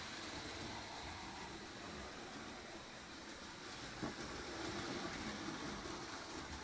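A reconditioned Lionel #254 prewar toy train runs steadily along its track on a slightly uphill layout, a continuous low rumbling whir with an even clatter heard close and alone.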